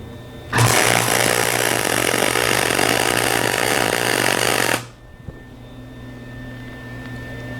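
A budget welder welds aluminium with a loud, steady crackling hiss that starts abruptly, holds for about four seconds close by, then cuts off into quiet.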